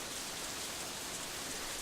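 Steady rain hisses evenly throughout, a dense continuous wash of falling drops on surfaces, ambient rain from the visual novel game Katawa Shoujo, with no voices.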